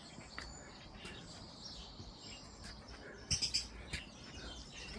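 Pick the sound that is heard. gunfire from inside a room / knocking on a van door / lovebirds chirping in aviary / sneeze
lovebirds chirping in aviary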